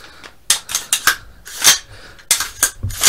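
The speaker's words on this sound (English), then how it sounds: "Bolt carrier group and charging handle seems to be working fine" An AR-15 rifle's bolt carrier group and charging handle are cycled in a function test, producing sharp metallic clacks and slides in a quick irregular series, loud and close, with no voices.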